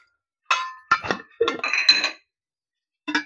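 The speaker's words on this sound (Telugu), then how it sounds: "ఇప్పుడు స్టవ్ వెలిగించి దాని మీద మూకుడు పెట్టేసి" A kadai set onto a stove for making idly burji gives a few clinking, clattering metal knocks in short bursts with gaps of silence between them.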